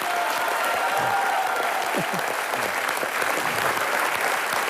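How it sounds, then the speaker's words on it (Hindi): Studio audience at a comedy talk show applauding Priyanka Chopra's mother, a steady, dense wash of clapping that holds evenly from start to finish with no voices over it. "जोरदार तालियां प्रियंका की मम्मी जी के लिए"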